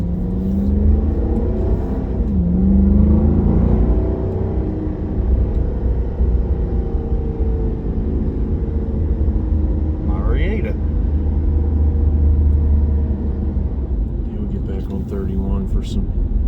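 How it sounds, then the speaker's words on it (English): A Chevrolet SS with an LS V8 rumbles and revs through a long stretch, a deep steady drone that rises and falls under someone talking throughout. "LS motors especially sound great."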